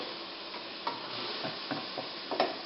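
Spinach and chopped garlic sizzling in olive oil in a pan: a soft, steady frying hiss with a few light stirring clicks and taps, fairly quiet and without voices.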